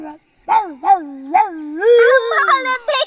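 A child imitates a dog with several short yelping barks, then a longer whining howl, close and loud.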